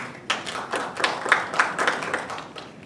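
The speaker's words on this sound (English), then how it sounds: "rousing applause for TOD density" A small workshop audience gives rhythmic applause after a presentation on transit-oriented density, with distinct repeated claps at moderate volume tapering off over a few seconds.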